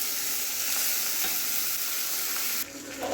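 Raisins go into a sizzling pan of rice with bay leaf for a Jagannath bhog pulao, giving a steady, fairly loud frying hiss that drops slightly near the end.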